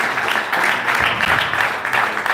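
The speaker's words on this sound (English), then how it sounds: "Round of applause" A summit audience at an entrepreneurial event breaks into dense, continuous applause, a loud, steady wash of many hands clapping close to the microphone throughout.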